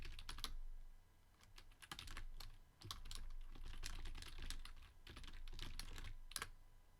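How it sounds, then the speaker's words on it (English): Quick bursts of typing on a computer keyboard, close and fairly quiet, with short pauses between runs of keystrokes. "Here, I'll go ahead and type it, because that goes faster."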